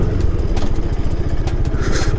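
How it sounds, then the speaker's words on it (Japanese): Husqvarna Svartpilen 250 motorcycle ridden along a narrow road toward the mountains, its single-cylinder engine chugging steadily and close up with a rough, pulsing rhythm throughout. "ガンガン行けるぞこのバイクなら"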